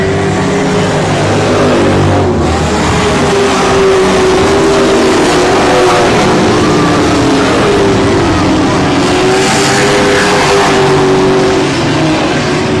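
Race cars lap the I-37 Speedway oval during a regular race program, the leaders threading through lapped traffic. A loud, continuous engine roar fills the air, its pitch sweeping up and down as the cars pass.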